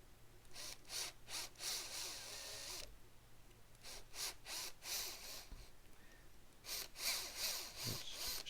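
A small drill bores out the shock mounting holes on 3D-printed parts for an RC10GX89 replica RC car, giving short bursts of grinding separated by pauses, with a faint steady hum underneath.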